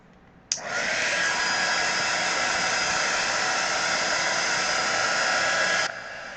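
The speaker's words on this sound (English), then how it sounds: "let's dry this with the heat gun real quick" A heat gun blows steadily as paint dries on a pet portrait. It is a loud, even whoosh that starts abruptly, holds unbroken for about five seconds, then cuts off, with no talking.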